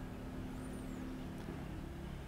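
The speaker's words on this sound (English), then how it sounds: "also the sound of the motor" A low, steady motor hum drones on faintly in the distance, with a single short bird chirp rising briefly above it.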